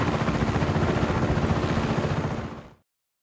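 A helicopter in the video game Just Cause 3 drones with a steady, rhythmic rotor chop, loud and close, holding constant for nearly three seconds before cutting off abruptly.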